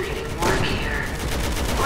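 Rapid bursts of gunfire in the video game Resident Evil 6, several quick overlapping shots at a steady level, with someone talking over them.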